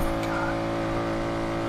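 A Koenigsegg Regera hypercar driving in the video game Need for Speed, a loud sustained engine drone with steady harmonic tones at high speed, a faint tyre squeal at the start.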